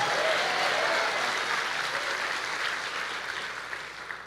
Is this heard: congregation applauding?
yes